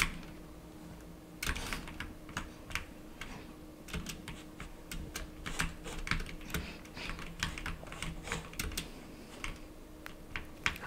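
Clicky keystrokes on a Steelseries Apex Pro mechanical keyboard during Fortnite play, a steady run of close, sharp taps with small bursts and brief pauses over a faint low game hum.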